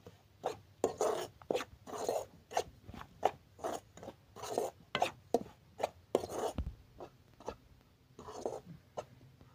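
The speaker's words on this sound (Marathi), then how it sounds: "आपण तूप टाकलं आहे कढईमध्ये. रवा चांगला भाजून घ्यायचा आहे." Semolina roasting in ghee in a kadhai over a wood-fired chulha for rava ladoo, stirred with steady scraping strokes that come as rhythmic, close, dry rasping bursts.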